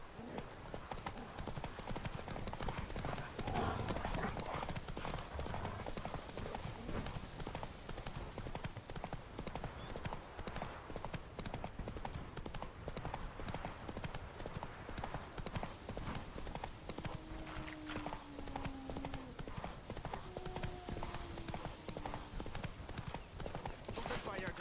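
Horse hooves galloping in The Witcher 3: Wild Hunt, a continuous fast clip-clop rhythm that runs throughout at moderate level, with faint background game ambience.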